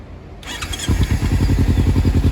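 Kawasaki Ninja 300 sport bike with an aftermarket exhaust fitted with a dB killer, idling up close, a loud, steady, rapid engine burble that continues without a break.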